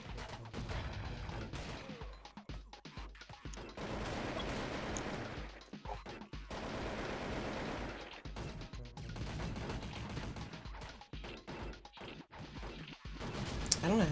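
Counter-Strike gunfire with an AK rifle: dense, loud bursts of in-game shots and impacts crowd nearly the whole stretch, broken by short gaps, with faint talk mixed in.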